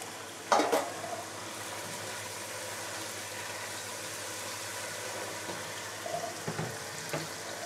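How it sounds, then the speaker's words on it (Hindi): Garlic and ginger fry in a pan for a kofta chicken pulao, giving a steady close sizzle throughout with a couple of sharper spatters and stirring clinks near the start and end. "लहसुन अदरक हमारा फ्राई हो गया"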